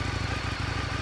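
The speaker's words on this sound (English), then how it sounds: "Brian, I love the sound of the bike." An Indian motorcycle fitted with an aftermarket exhaust idles steadily nearby, its low, even pulsing beat carrying on without pause and with no talk over it.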